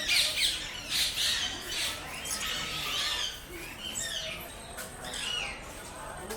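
Parrots and other birds squawking and calling in an aviary at Nehru Zoological Park in Hyderabad, with overlapping harsh, shrill cries throughout and no one speaking.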